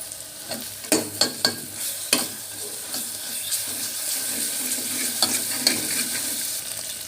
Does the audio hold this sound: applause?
no